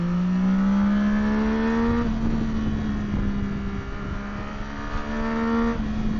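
A 2026 Yamaha Tracer 9 motorcycle engine pulls steadily upward in pitch through gear changes, droning loudly and continuously as the bike accelerates.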